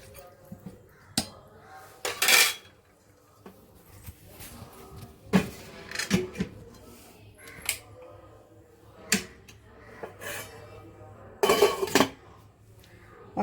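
Clinks and knocks of a metal pot of paneer mint rice being set into a pressure cooker, several separate bright clanks spread through a quiet kitchen with no talking.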